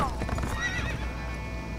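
A horse in the video game The Escapists 2 gives a quick clip-clop of hooves and a rising whinny in one brief, close burst.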